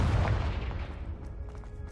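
A Confringo fire-blast spell goes off in Hogwarts Legacy, a loud low boom at the start that rumbles and decays over about two seconds, no voices.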